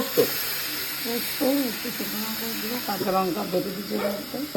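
Nigella seeds and dried red chillies hiss in hot oil in a steady sizzle that runs beneath people talking nearby.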